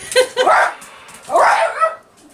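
A dog barks in two short bursts, fairly close and clear, with a brief pause between them.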